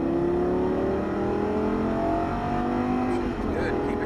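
A Lamborghini Gallardo Superleggera accelerating on a race track, a continuous engine drone with rising pitch heard from inside the car, with a voice talking over it.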